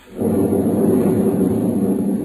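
A heavy, rumbling crash of thunder rolls in suddenly and sustains at high volume, used as a sound effect in a 1940s radio horror drama.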